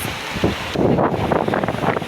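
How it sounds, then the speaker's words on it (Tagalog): Strong wind buffets the microphone in a loud, roaring rush that surges and swells, with no voices heard. "Nalulunod na kami sa hangin."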